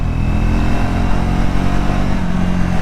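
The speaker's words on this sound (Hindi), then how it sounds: "हल्का सा थ्रॉटल किया। ओहो हो क्या पिकअप पकड़ा है बाइक ने वापस से" A Triumph Scrambler 350 X motorcycle engine pulls hard under a light throttle. A steady, loud, close mid-pitched drone holds throughout with no talk.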